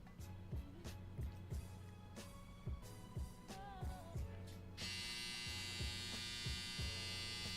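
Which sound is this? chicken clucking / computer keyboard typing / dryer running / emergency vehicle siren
dryer running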